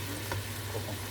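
Meats for a couscous royal brown in a pan, giving a steady, dense sizzle with a faint stir midway and a low hum underneath.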